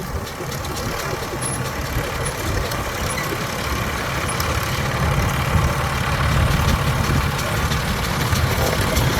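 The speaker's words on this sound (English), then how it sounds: "It is being pulled by a 1909 Geyser steam traction engine." A 1909 Geyser steam traction engine running at a threshermen's show, a low steady rumbling chug with a faint hiss that grows slightly louder toward the end, heard outdoors with people talking.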